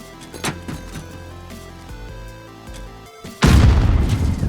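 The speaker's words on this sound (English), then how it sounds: "Let's see if I can throw a grenade and then throw it back again." In the Call of Duty video game, faint game sounds and a short thump lead into a loud grenade explosion whose heavy rumbling boom lingers through the last second.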